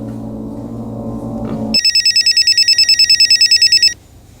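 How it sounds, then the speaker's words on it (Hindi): A low hum gives way to a loud, rapid electronic telephone ring, pulsing steadily for about two seconds before stopping. "फोन बज रहा है, फोन उठाओ।"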